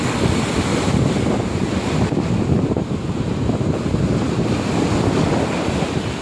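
Ocean waves wash ashore at Kovalam beach in a continuous roar of surf, with wind buffeting the microphone, and no speech heard.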